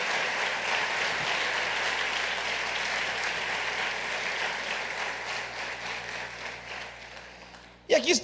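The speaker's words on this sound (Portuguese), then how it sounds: "Você pode aplaudir o nome do Senhor." A church congregation applauding, steady dense clapping that fills the space for several seconds before a voice breaks in near the end.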